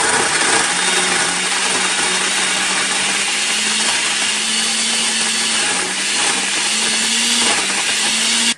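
A blender whirs loudly and continuously while chopping hummus ingredients, a close motor drone with a slight pitch rise and brief dips before cutting off at the end.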